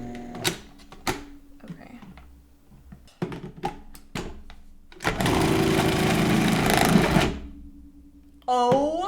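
A Cuisinart Custom 14 food processor whirs loudly for about two seconds in a steady motor burst, framed by clicks and clunks of parts being handled before and after.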